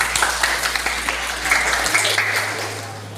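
A classroom of students claps briefly at a teacher's prompt, a short burst of close, fairly loud applause with some individual claps standing out over a low hum.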